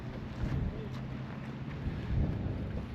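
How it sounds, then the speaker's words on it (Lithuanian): Wind buffets a microphone outdoors on a cycling trip at Juodkrantė, a steady low rumble with gusts swelling and fading throughout. "Vėjas biškį yra."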